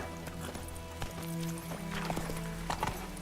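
Roach, the horse in The Witcher 3, galloping with quick rhythmic hoofbeats over a low ambient bed, a brief whinny-like tone partway through, moderately loud and close.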